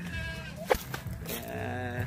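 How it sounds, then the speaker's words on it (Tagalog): Goats kept on a farm bleat in short wavering calls, one sharp cry standing out midway, with other animal sounds and faint background noise around them. "Marami pala kayong alagang kambing."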